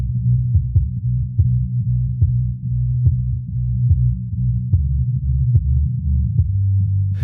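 A soloed low band around 100 Hz carries bass and kick drum, heard as a muffled, throbbing boom with regular thumping pulses and a sustained deep hum.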